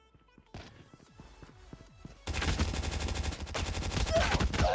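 In the Call of Duty Mobile game, a few sharp single shots ring out first. A dense, loud burst of rapid automatic fire follows and carries on continuously to the end.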